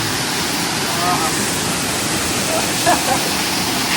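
Somtirth waterfall in Ratnagiri, a loud, steady broadband roar of falling water close by, continuous for the whole stretch with a few faint voices beneath it.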